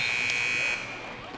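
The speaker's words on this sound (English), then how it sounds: "At the buzzer." End-of-quarter buzzer at a high school boys basketball game, a single loud sustained electronic tone lasting under a second over crowd noise, then cutting off.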